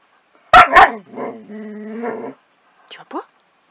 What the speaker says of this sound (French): Oh, tu aboies sur le citron?